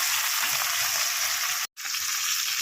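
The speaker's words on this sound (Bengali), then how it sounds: "এদিকে মাছ ভাজা প্রায় হয়ে গেছে, মাছটা ভালো করে আরেকটু ভেজে নামিয়ে নেব।" Fish sizzles vigorously in hot oil in a pan, a close, bright, continuous hiss with a momentary break near the middle before the frying resumes.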